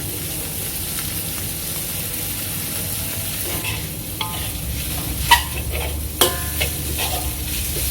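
Glass noodles and onion are stir-fried in a pan for crab fried rice, with a steady close sizzle and occasional scraping clanks of the utensil.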